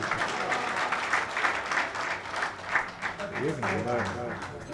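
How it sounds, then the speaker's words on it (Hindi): An audience at a mushaira poetry gathering claps in a loose, pulsing wash while voices carry over it and cheers rise near the end. "फिर तालियां बजाए"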